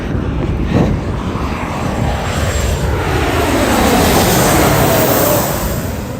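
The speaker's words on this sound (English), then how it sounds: "here comes another plane landing" A landing airplane passes overhead near a city with a loud, steady engine roar that swells and shifts in pitch as it goes by, heard alone.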